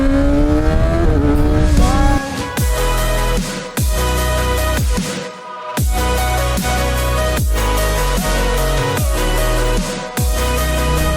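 A Kawasaki ZX-6R supersport motorcycle with a 636cc inline-four engine revs loudly and climbs through the gears, each upshift making a sharp drop in pitch before the engine wails upward again, riding close and without speech.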